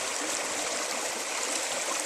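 A bubbling creek flows in a steady, broadband rush of trickling water, close and continuous with no voices.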